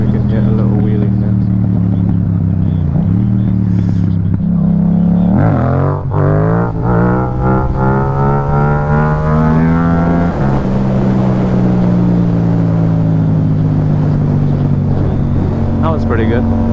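A Yamaha MT-07 motorcycle engine revs hard and loud as the rider accelerates for a wheelie in summer, its pitch climbing and then holding under wind rush, with a rider's voice over it.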